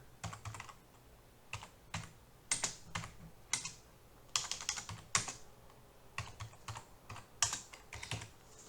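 Computer keyboard typing while entering a formula in an Excel spreadsheet, irregular bursts of quick clicky keystrokes with short pauses, close and fairly quiet with no speech.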